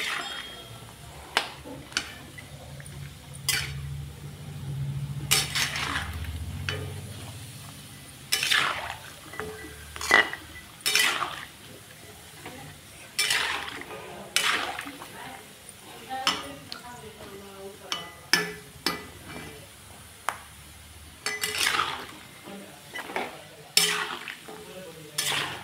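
Raw spice masala being dry-roasted in a pan: a soft steady sizzle under repeated sharp clinks and scrapes of a spoon stirring against the metal, close and fairly quiet, with a voice talking at times.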